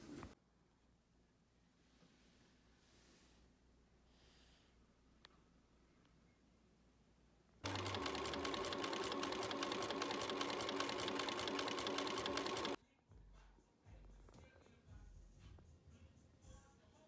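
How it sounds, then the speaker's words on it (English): A serger overlocking the top and bottom edges of dress panels runs as one loud, steady mechanical buzz for about five seconds. Quieter handling noises and faint rustling come before and after it. "I'm going to serge around the top and the bottom"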